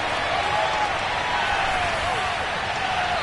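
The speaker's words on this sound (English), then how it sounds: "That just means this crowd's going to get even louder." Sustained, dense crowd roar from a football stadium in the Madden video game, steady and loud across the whole stretch with no distinct voices standing out.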